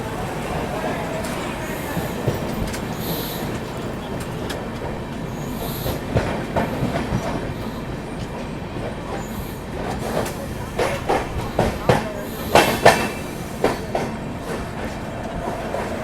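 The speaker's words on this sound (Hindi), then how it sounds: "कोई पैसेंजर ट्रेन को ओवरटेक कर रहे हैं" Sampoorn Kranti Express overtaking a passenger train near Ara: a steady rumble of rolling rail cars with clickety-clack wheel beats and brief metallic squeals, growing louder and more clattery toward the end, with faint voices in the background.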